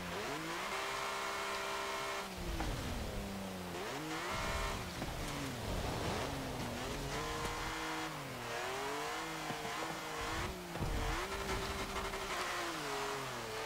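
A 1939 BMW 328 engine in Forza Motorsport 7 revs hard, pitch climbing and dropping repeatedly through gear changes, loud and continuous with occasional tire squeal.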